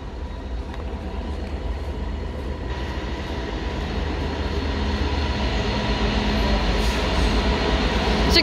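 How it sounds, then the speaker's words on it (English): A Freightliner Class 66 diesel freight locomotive passes through Doncaster, heard as a steady loud rumble of engine and rolling wagons that grows slightly louder over the clip. "It's gonna be a Freightliner 66. Just going through over there."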